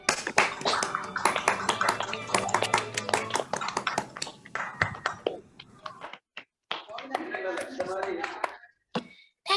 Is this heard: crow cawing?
no